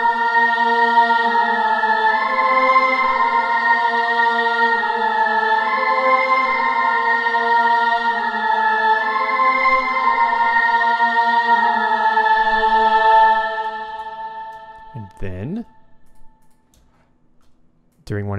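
Sustained choir chords from the 8Dio Insolidus sample library hold rich harmonic vowel tones for about thirteen seconds, then fade away and end in a few faint clicks.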